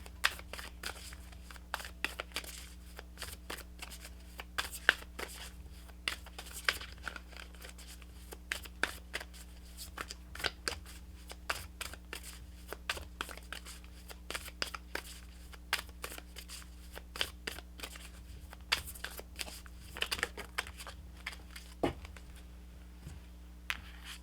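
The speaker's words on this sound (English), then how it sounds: "Let me give these a good shuffle." Tarot cards being shuffled by hand, a steady run of quick papery riffles and soft flicks through the whole stretch, close and fairly quiet over a low background hum.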